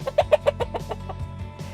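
Backyard hens cluck in a quick series of short, close, fairly loud calls, with a few further clucks trailing off, no voices heard.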